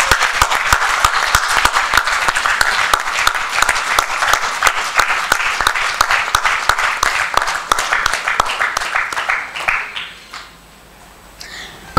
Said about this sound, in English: We can do a little better with applause.